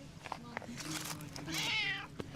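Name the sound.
cat meowing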